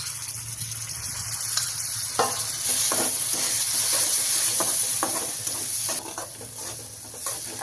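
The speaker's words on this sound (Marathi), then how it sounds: "आता हे सगळं साहित्य बारीक गॅसवर आपण छान परतून घेणार आहोत" A spice mix of red chilli powder, turmeric, salt and crushed peanuts sautés over a low gas flame, giving a continuous close sizzle with repeated scraping stirs of a spoon against the pan.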